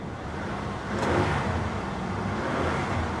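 A used truck's engine idles close by with a reported misfire, a steady low rumble that swells slightly partway through.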